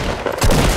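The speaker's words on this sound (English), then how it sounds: "Bum rush me with this dumbass shotgun" Shotgun blasts in Fortnite, a loud close burst of heavy booming fire.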